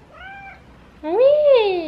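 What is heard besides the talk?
cat meowing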